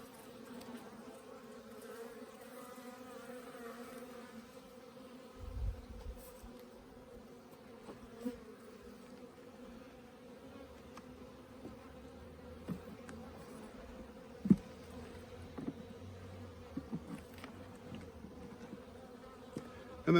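Honey bees at a Langstroth hive frame of drawn-out wax give a soft, steady buzzing drone, faint and continuous, with occasional small knocks and bumps close by.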